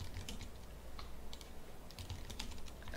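A command typed on a computer keyboard gives a quiet run of quick, uneven key clicks, close but faint, with no voice.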